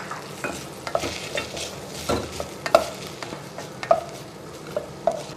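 Pasta being tossed and stirred with oil in a hot pan, with a soft steady sizzle and sharp intermittent scrapes and clinks of the utensil against the pan, close up and without talk.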